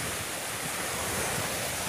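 Waves wash onto a wild beach on the Mediterranean coast at Malia, Crete, a continuous surging rush of surf mixed with wind buffeting the microphone, with no voices.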